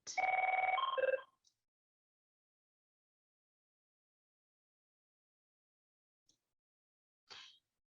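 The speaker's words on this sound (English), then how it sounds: "The phone was very distracting." A telephone rings once with a loud, close electronic trill lasting about a second, followed by a long silence broken only by a faint click and a brief rustle near the end.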